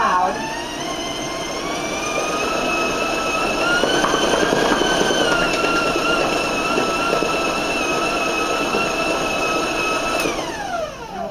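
A stand mixer whips yellow cake batter at high speed, giving a loud, steady motor whine that climbs in pitch and holds for several seconds before winding down near the end.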